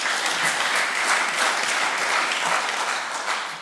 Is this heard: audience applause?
yes